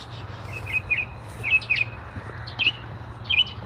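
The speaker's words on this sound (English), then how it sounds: "Boy, listen to the birds." Birds chirp and tweet in short bright bursts, several calls spaced across a few seconds over a low steady outdoor rumble.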